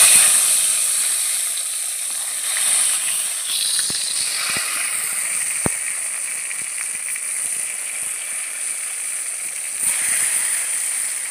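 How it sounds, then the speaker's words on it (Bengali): Eggplant slices fry in hot oil in a wok, a continuous bright hissing sizzle that stays steady and fairly loud, with a few faint clicks and no voices. "বেগুনগুলো আমি ভেজে নিচ্ছি।"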